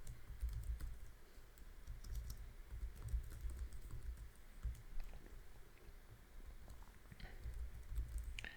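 Quiet, uneven tapping of fingers on a computer keyboard, bursts of keystrokes with short pauses in a calm room, no one speaking.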